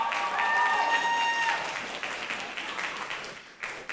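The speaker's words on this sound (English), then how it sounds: "Can we give them a big round of applause?" A school assembly audience applauding student leaders, a dense burst of clapping that swells at the start and gradually thins out over a few seconds, with a voice briefly heard under it.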